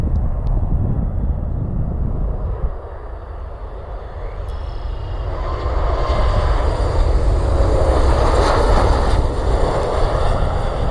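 United Boeing 737 MAX 9 jet landing at Cleveland Hopkins International Airport, inbound from San Francisco: a loud, continuous engine roar close by that dips briefly and then swells louder as the jet passes.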